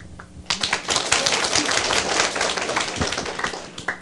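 An audience at a lecture claps loudly and densely, a burst of quick overlapping hand claps that starts abruptly and continues for several seconds.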